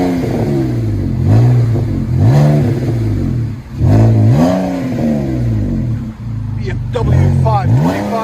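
A BMW 525i with a 2.5L inline-six and straight pipe exhaust revs repeatedly in loud, rising and falling bursts, each throttle blip swelling then dropping back to a rough idle.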